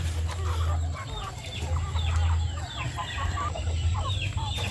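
A flock of Basilan-cross chickens busily pecking at feed while clucking in soft, overlapping calls, heard close with a low steady hum in the background.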